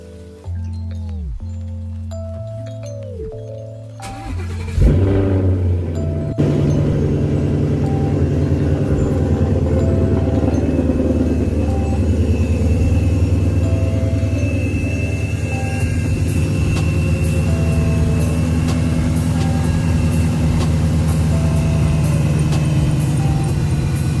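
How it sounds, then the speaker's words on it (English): A 2017 S550 Mustang GT fitted with a Vortech V3 supercharger cranks briefly, fires up with a loud surge, then settles into a steady, rumbling idle that holds close and strong to the end. "let's go ahead and start the car for you guys"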